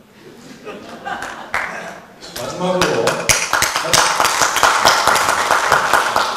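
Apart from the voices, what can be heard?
audience clapping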